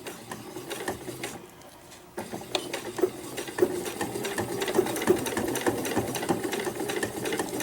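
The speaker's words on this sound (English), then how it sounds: "So we're just stitching carefully here." Close-up whir of a sewing machine steadily stitching a fabric sewing roll, running continuously after a short quieter pause near the start, with faint clicks of handling.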